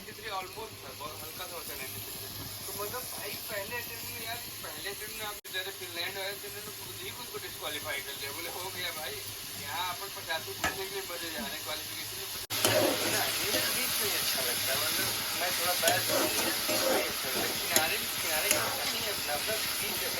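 Paira phutu mushrooms hit a pan of fried onions and hiss under a voice that talks throughout. The sizzle swells sharply and stays louder and harsher in the later part.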